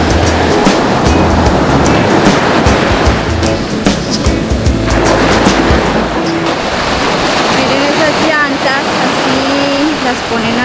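Sea waves wash steadily onto the shore at Palomino, La Guajira, Colombia, a loud continuous roar of surf with wind buffeting the microphone and faint voices in the background.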